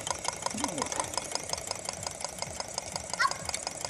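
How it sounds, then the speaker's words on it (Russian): A homemade wood-fired Stirling engine drives a generator, giving a steady, fast, rhythmic mechanical chugging with regular knocking pulses that stays even and continuous at moderate volume. "движок немножко вибрирует."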